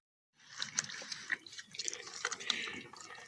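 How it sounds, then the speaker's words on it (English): Warm water drips and trickles off a cloth while a cow is washed down at her back end, soft wet splashes and drips close by, with a faint voice briefly underneath. "I just got a little cloth here and some warm water. Wash her off a little bit."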